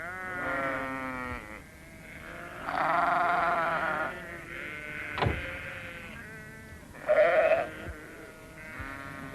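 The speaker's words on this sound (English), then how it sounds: "It was Alf Thompson driving his sheep across the road." Sheep bleating repeatedly from a flock being driven across a country road, loud, close calls overlapping in several bursts with short pauses between.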